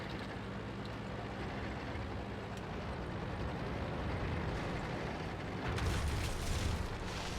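Artillery shells exploding in the tank game World of Tanks, a continuous deep rumbling barrage that swells into a heavier, louder blast near the end, with no voices.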